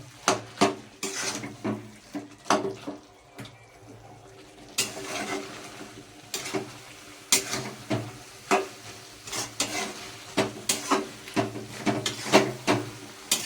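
Spices and meat being stirred and fried with kadai shak in a pan, with repeated clattering scrapes of a spoon against the pan over a low sizzle, in steady bursts throughout.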